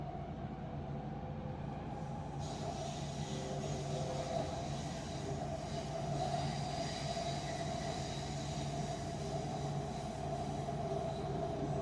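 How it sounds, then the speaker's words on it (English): A train running near the University of British Columbia, bound for Waterfront, with a steady rumble and humming drone that persists evenly throughout, no voices heard. "This train is for Waterfront."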